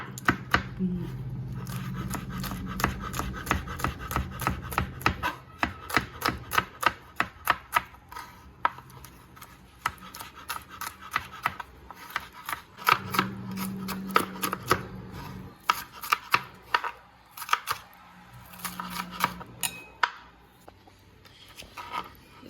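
Winged bean sambol is pounded hard in a bowl: rapid, close, rhythmic knocks in bursts with short pauses, and a voice is faintly heard now and then.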